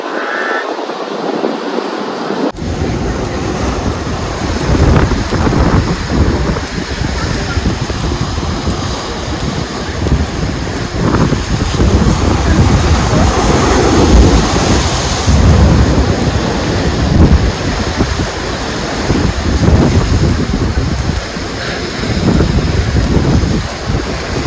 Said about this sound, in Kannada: ಈಚೆಯಿಂದ ಪಾಸ್ ಆದ ನೀರು ಅಲ್ಲಿ ತನಕ ಹೋಗ್ತಾ ಅಲ್ಲಿಂದ ರಿಟರ್ನ್ ಬಪ್ಪರೊಳಗೆ ಇಲ್ಲಿಂದ ಪುನಃ ಒಂದು ಬದುತ್ತು